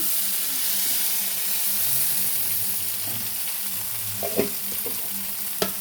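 Brinjal and potato curry sizzling steadily in a pan as tomatoes go in, a continuous frying hiss with soft stirring scrapes and a few louder clinks near the end, close and with no voices.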